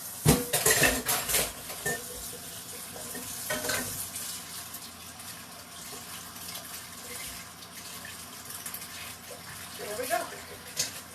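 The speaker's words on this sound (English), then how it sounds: "I'm actually going to need to wash the bowl this time." A mixing bowl being washed in a kitchen sink during holiday baking: running tap water with clattering dish and utensil knocks, loudest at first then settling into a steady wash of water, close by, with voices talking at times.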